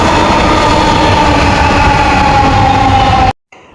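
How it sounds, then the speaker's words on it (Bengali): A Dhaka metro rail train pulls into a station with a loud, steady rumble and a sustained tonal whine, cutting off abruptly near the end. "আমরা যাওয়ার সাথে সাথে নাকি মেট্রোরেল চলে আসলো"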